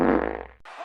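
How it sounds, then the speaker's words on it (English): A loud, buzzy fart sound effect blares for about half a second and cuts off abruptly, followed by a brief fainter, breathy tail. "Time to fart."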